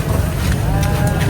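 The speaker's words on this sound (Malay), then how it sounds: "Kambing. Kambing" Livestock bleating at a Ramadan bazaar, a steady low animal call filling the short stretch amid busy market noise, with no talk over it.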